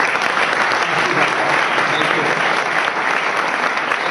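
Steady, dense applause from a large keynote audience at the IMEX Frankfurt opening ceremony as SAP CEO Bill McDermott is welcomed to the stage, loud and sustained without a break.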